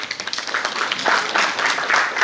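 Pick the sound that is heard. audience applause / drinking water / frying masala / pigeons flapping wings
audience applause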